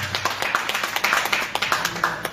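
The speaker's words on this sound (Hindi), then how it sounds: "जोरदार तालियां बजाओ" A seminar audience claps in a loose, uneven patter, distinct individual claps standing out from a sparse group, moderately close and continuing for a couple of seconds.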